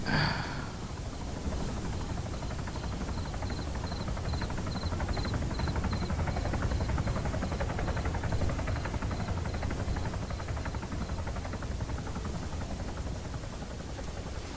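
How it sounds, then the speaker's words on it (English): Helicopter flying nearby in the ArmA 3 video game, a steady broadband rotor and engine roar with a faint repeating high beep, continuous and fairly loud for the whole stretch. "Helicopter, 2 clicks, southwest."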